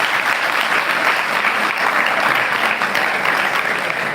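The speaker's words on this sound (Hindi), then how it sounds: "तालियां बजा दो एक बार बच्चे के लिए" An audience at a religious study camp applauds a third-grade child, a loud, continuous wall of clapping from many hands that holds evenly without pause.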